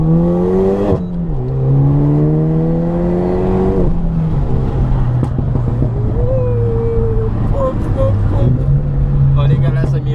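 A Renault Mégane RS pulls hard through the gears, its engine note climbing steadily with sharp shift breaks, loud and close inside the cabin and continuous throughout.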